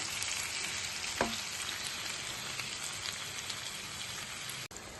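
Masala with palm pieces cooking down in a pan for Andhra-style korameenu fish curry, a soft, even sizzle like light rain with one small clink, steady and fairly quiet.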